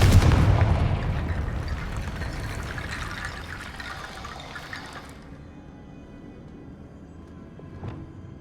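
A Confringo fire spell blasts in Hogwarts Legacy, opening with a loud, roaring burst that rumbles and crackles, then decays over several seconds into a low fading wash, with a faint late flicker near the end.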